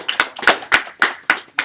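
A small workshop group claps in a brief, sparse burst of about six sharp, separate claps close by in a quiet room, spaced a quarter second or so apart.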